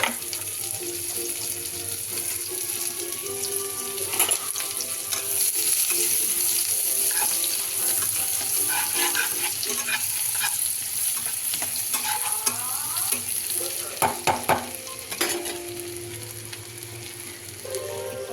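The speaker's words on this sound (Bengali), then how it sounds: "কুচিয়ে রেখেছিলাম পেঁয়াজ, এটা দিয়ে দেবো। এটা একটু হালকা ভেজে নেব।" Chopped onions fry in hot oil with cumin seeds for an egg curry, a steady broadband sizzle running throughout with intermittent scraping clicks and stirring taps from a utensil against the pan, with no voices.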